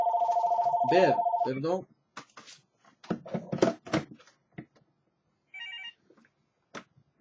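A telephone rings with a steady repeating trill at the start, loud and close, before a voice breaks in with brief speech during a religious talk; later short bursts of tone follow amid the talking.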